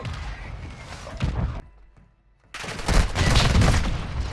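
Dense, loud bursts of gunfire in Warzone 2, a rapid fusillade with heavy thuds, dropping out briefly to near silence mid-clip before the barrage resumes even harder.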